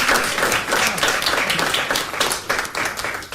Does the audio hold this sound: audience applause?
yes